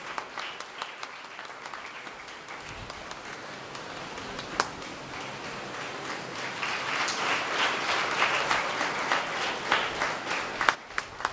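A ceremony audience applauds for a pastor at an awards event, sustained clapping from a crowd in a hall, steady and fairly faint, swelling slightly toward the end.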